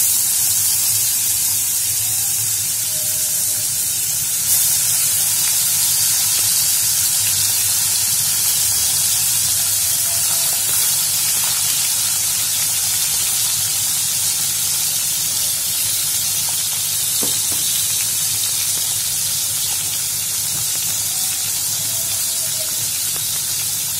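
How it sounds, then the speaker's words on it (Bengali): Chapila fish coated in salt, turmeric and chili frying in hot oil, heard as a loud, steady, hissing sizzle that runs unbroken without talk. "মাছটাকে প্রথমে আমরা একটু ভেজে নেব"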